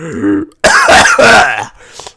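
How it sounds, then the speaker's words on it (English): A close, loud throat clearing followed by a harsh cough burst, then a brief softer rasp trailing off. "I'm sick, so you're going to hear a lot of coughing and sneezing and wheezing"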